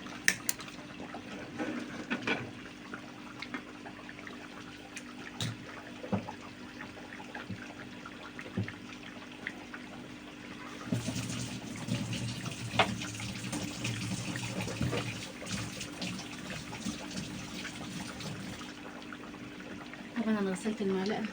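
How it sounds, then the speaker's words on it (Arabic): Water poured into a cooking pot of rice in a home kitchen, a faint, steady trickle running under soft background noise, growing a little fuller partway through. "نحط له ميه هو كمان"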